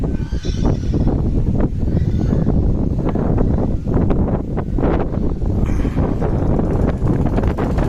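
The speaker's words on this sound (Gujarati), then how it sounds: "પવન કેવો આવે છે?" Strong wind buffets the microphone in heavy, uneven gusts, a low rumbling roar that dominates throughout.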